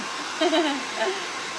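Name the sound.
hair dryer drying a Firefly transfer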